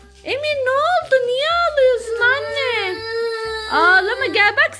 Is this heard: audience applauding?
no